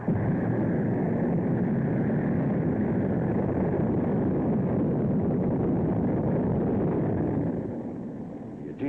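An Atlas Agena rocket launching from Cape Kennedy gives a loud, sustained, rumbling roar that holds steady and then fades slightly toward the end.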